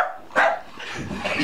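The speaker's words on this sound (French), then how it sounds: "un chien noir et un chien blanc, qu'est-ce que vous en pensez?" A hunting dog, a jagd, gives one sharp close bark followed by softer whining and yipping sounds during training.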